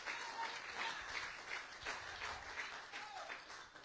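A church congregation applauds with full hearts as an offering to the King, steady dense clapping filling the room at a moderate level throughout, with a faint voice or two rising briefly beneath it.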